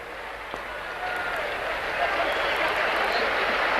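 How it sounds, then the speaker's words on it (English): A rugby league crowd at Warrington against Hull KR applauds as player Paul Bishop leaves the field, a broad wash of clapping and crowd noise that swells slightly and holds steady under a commentator's voice. "a good round of applause for Paul Bishop"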